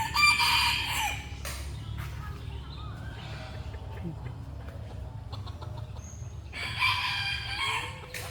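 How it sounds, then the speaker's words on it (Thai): Small Thai kai kae chickens, kept at a temple in a lush forested area, crow loudly in two bursts at the start and end, with softer clucking and rustling in between. "เป็นไก่แก่จ้ะ"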